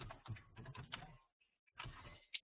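Quick bursts of typing on a computer keyboard while writing VBScript code, close, soft rapid key clicks in two runs separated by a brief pause.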